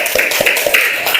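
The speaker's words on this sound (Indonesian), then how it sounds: "Tepuk tangan untuk semuanya" Second-grade primary school class clapping together in a classroom, a few sharp rhythmic claps in quick succession, close and loud.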